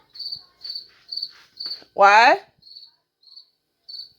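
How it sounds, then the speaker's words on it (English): Crickets chirp indoors in a house with a run of short, evenly spaced high trills, fairly close and clear, broken once by a brief spoken word. "Listen to those crickets."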